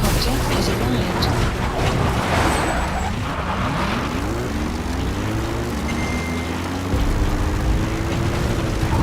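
The Pequod support helicopter in Metal Gear Solid V arrives at the landing zone, its engine and rotor drone loud and close, with the pitch climbing steadily as it approaches. A radio voice talks over the noise.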